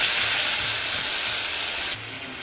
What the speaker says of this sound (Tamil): தக்காளியை நல்லா வதக்கி விட்டுக்கலாம்